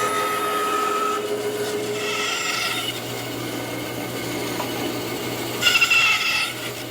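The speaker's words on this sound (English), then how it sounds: "I'll remove the excess at the bandsaw" A bandsaw trims the excess from a wooden tenon, a steady mechanical hum and whir with rasping cut noise swelling in two brief louder passes.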